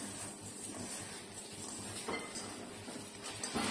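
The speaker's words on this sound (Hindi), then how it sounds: "बस इसको मिक्स कर लेना है, थोड़ा सा हरी धनिया डाल के।" Spoon scraping and clinking against a bowl while mixing dry turmeric, coriander and black pepper powder for mutton kebabs, close and fairly quiet with steady low kitchen rumble.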